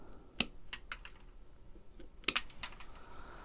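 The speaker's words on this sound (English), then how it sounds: "Now I got to cut off these dead limbs." An Ironwood IW1500 long nose pruning tool cutting dead limbs, heard as two crisp, close snips about two seconds apart with faint small clicks and handling noise between them.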